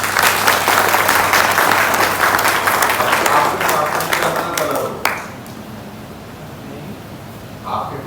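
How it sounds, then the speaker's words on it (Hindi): An audience bursts into loud, sustained clapping at a yoga demonstration of blindfolded reading. The applause cuts off sharply and leaves a quieter room. "तालियां"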